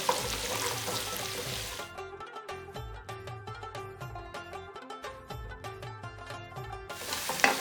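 Chopped onion, about a cup, sautéing in a pan for vindaloo sauce; a steady hiss of sizzling is heard at the start and again at the end, with loud music covering the middle.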